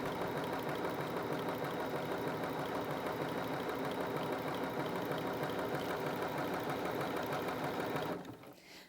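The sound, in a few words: Bernina 325 sewing machine sewing bar tacks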